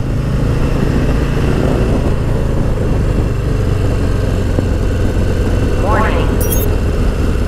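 Harley-Davidson Low Rider ST motorcycle riding with engine braking, a loud, steady, close low-pitched engine rumble with a brief rising whine near the end.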